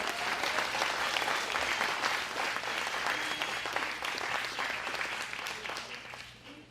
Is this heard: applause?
yes